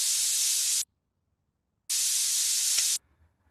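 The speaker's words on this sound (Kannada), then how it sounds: "ಕುಕ್ಕರ್ ಆಫ್ ಮಾಡಿ ಬರ್ತೀನಿ" A pressure cooker vents steam in two loud, sharp hisses, each about a second long with a pause between them. The hissing is close and harsh, and no voices are heard.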